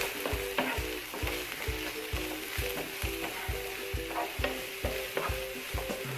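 Green chilies, curry leaves and sliced onions fry and crackle in a hot pan with oil, with steady close sizzling broken by regular rhythmic scrapes and knocks as a spatula stirs the mix, no voices.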